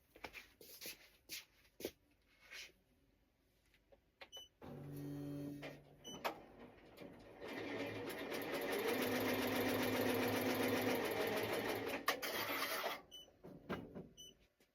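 Home embroidery machine stitches a glitter heat-transfer vinyl reindeer design onto a T-shirt, its steady whirring, buzzing run starting after a few taps and handling noises and going on for several seconds before stopping.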